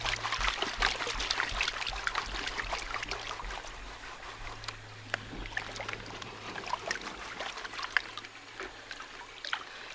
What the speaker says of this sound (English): And then you go ahead and agitate the pan.